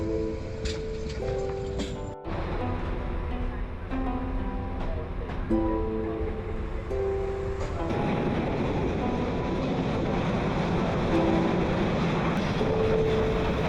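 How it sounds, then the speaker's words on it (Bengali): A train rolls slowly into Sylhet, its steady rumble carried under rushing wind, with a few passing tonal whines and a brief sharp dropout early on before the noise grows rougher and heavier. "ধীরে ধীরে ট্রেন প্রবেশ করছে সিলেট শহরের দিকে"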